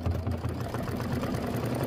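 An embroidery machine stitches a quilt block with a rapid, steady mechanical chatter, close and continuous throughout.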